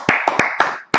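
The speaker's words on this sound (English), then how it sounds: "Everybody clap it up." Handful of loud, close claps in a slow uneven rhythm, about five sharp hits in one second, from a gathering urged to clap along.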